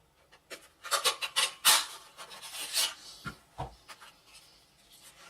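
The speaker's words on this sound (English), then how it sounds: "We're going to stamp him, or punch him out using a 2 3/8 inch scallop punch." Paper being punched out with a 2 3/8 inch scallop punch for an Easter chick craft: a string of crisp, dry crunching and rustling handling sounds, close and moderately loud, with no talking.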